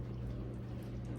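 Warm water is poured into chocolate pudding bundt cake batter made with canola oil: a steady, close liquid pour with a low gurgle, running unbroken for about a second with no talking.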